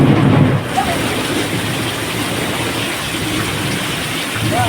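Steady rain falls in a dense, even hiss on a rainy day outdoors, continuous and fairly loud with a slight dip early on and no clear voices.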